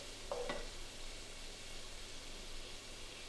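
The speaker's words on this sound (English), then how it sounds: "Fry all that together for 3 minutes, stirring often until the onion starts to soften" Onion frying in a pan with ground coriander, cinnamon, salt and tomato puree for a curry, a faint steady sizzle with a brief scrape of stirring near the start.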